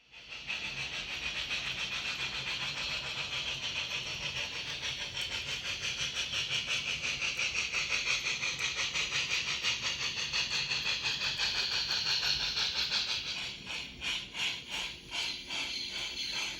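An HO scale model Union Pacific train runs steadily along a Victorian-era layout, a continuous whirring motor with rapid rhythmic wheel clicks, then slows with the clicking spacing out as it approaches a stop.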